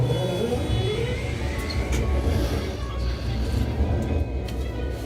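A heavy diesel engine rumbles steadily at close range, a low continuous drone with a faint whine above it.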